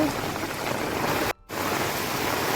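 Heavy rain pours onto a flooded street, a dense, even hiss close by that cuts out completely for a split second midway before resuming just as strongly, with no voices.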